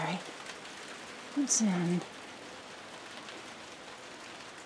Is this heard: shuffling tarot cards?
no